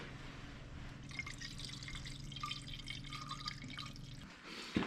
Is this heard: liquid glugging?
yes